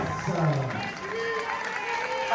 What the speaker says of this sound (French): je compte sur vous également pour applaudir donc Julie Sylvain